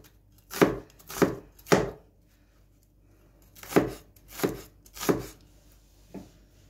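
A knife chops a small onion on a cutting board, with a burst of three sharp strokes, a pause, then three more and a lighter final cut. The sound is close and clear.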